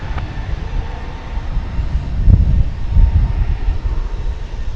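An airplane lining up on runway 28 left at DFW Airport gives off a low, steady engine rumble that swells slightly partway through, heard from a distance with no voices.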